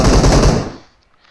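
Burst of automatic gunfire in the mobile battle royale game BGMI, rounds striking a wall; a loud, dense rattle for most of a second that cuts off sharply into near silence.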